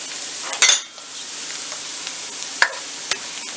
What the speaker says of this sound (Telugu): ఆయిల్ వేడైన తర్వాత ఒక హాఫ్ ఆనియన్ వేసుకొని ఫ్రై చేసుకోవాలి.